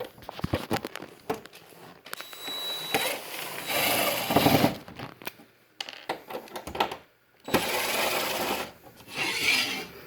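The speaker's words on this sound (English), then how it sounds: "So we're going to take those top 2 screws out." A screwdriver or power driver backing screws out of the back of a TV for a wall mount, bursts of close whirring and ratcheting broken by short pauses, without speech.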